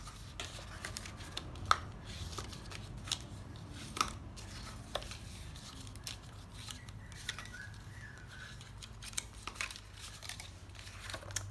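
Scored cardstock for a tissue box cover base is folded and creased, giving soft crinkling and brief dry taps and rubs that come irregularly and stay close and quiet.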